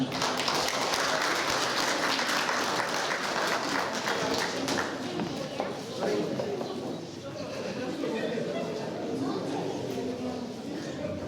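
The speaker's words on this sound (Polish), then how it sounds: "tym bardziej gorętsze brawa dla Pani" Warm applause from a crowd at a charity ball in Zalasowa, dense and steady for the whole stretch, easing slightly toward the end, with voices talking faintly underneath.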